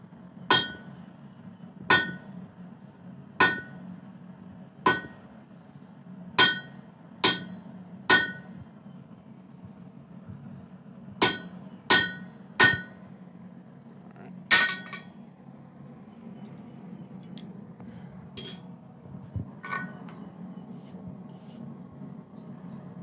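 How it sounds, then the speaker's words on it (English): A blacksmith's hammer strikes an anvil about a dozen times while forging a firesteel. Each blow is a bright, ringing clang in a steady rhythm that slows and quiets toward the end. "As soon as we can get this anvil chain down, some of the ringing should come out."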